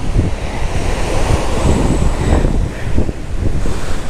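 Ocean surf washing below a seaside overlook, with constant wind buffeting the microphone in a loud, unbroken roar.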